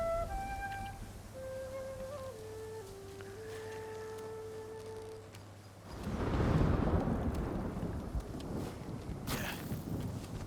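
Thunder rumbles and crashes through a lightning storm in Ghost of Tsushima, a broad loud burst of rolling noise arriving after a stretch of flute and quiet tones, with a sharp bright crack near the end.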